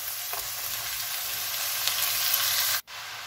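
Washed spinach lands on frying onions in a pan and crackles in a loud, close, steady sizzle with light stirring, then cuts off sharply near the end.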